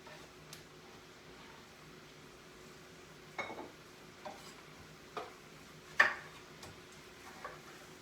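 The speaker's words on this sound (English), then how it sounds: "Dicing up my tomato to go on top of my salad" A knife dices a tomato into big chunks on a board, making a handful of soft, separate taps spaced unevenly over a quiet background.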